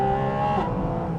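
Porsche 718 Spyder RS flat-six heard from inside with the roof closed, a loud harmonic engine tone that holds, then drops in pitch partway through as the revs fall, under a steady cabin rumble.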